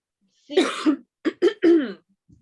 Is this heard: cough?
yes